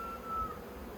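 Honey bees hum steadily at close range as they work over queen cell cups in a hive, a soft continuous buzz with no talking.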